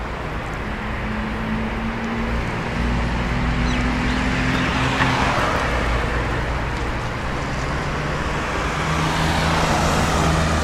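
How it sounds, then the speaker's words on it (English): Steady road traffic on a street in Uzbekistan, with cars and heavier vehicles passing continuously at moderate distance, engines humming and a few louder swells as vehicles go by, with no talking. "Yeah, the cars are not really stopping."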